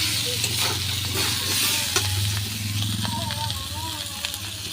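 Spinach and eggplant fry in a pan, giving a steady close sizzle with occasional stirring scrapes, and a voice faintly underneath.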